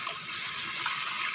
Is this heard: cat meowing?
no